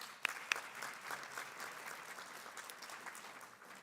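A festive charity gathering's audience applauds its event team and volunteers, a soft, steady patter of clapping heard from a distance, with a couple of sharper claps near the start.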